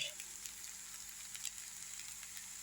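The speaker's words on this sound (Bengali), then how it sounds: "প্রথমে আমি সোয়া সসটা দিচ্ছি এরপরে দেব চিলি সস" Egg chow mein frying in a pan as soy sauce goes in: a faint, steady crackling sizzle that holds evenly throughout, with no talking.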